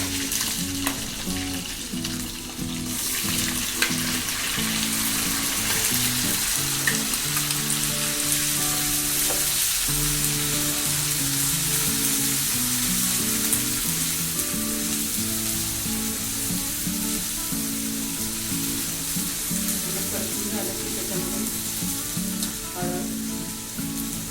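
Ground masala paste fries with browned ginger in a hot pan for a Marathi aamti, giving a continuous, close sizzle and crackle with no talking.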